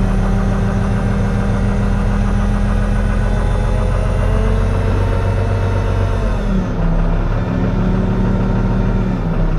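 A tractor engine runs steadily near and loud while a herbicide sprayer works an oilseed rape field, its low rumble dipping and settling toward idle about two-thirds of the way through.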